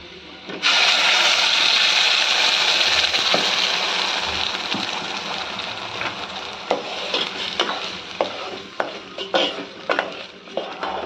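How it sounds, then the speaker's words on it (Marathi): Masala drops into hot tempering oil and sizzles loudly at once. The sizzle slowly settles while a spoon stirs and scrapes against the pan, making sharp, irregular clinks. "आता आपण हे फोडणीला मस्त आपली फोडणी तापलेली आहे"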